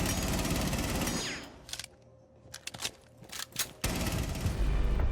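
Gunfire in Rainbow Six Siege on the Chalet map: dense automatic bursts, then a pause with a few scattered sharp shots, then another sustained burst, loud and close.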